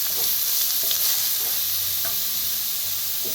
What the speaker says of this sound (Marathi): आता भाजून घेऊया